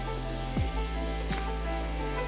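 Butter melting in a hot pan before searing a sous vide tenderloin filet gives a steady, close sizzling hiss throughout, with a couple of soft clunks from the pan.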